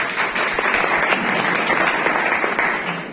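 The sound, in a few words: audience applause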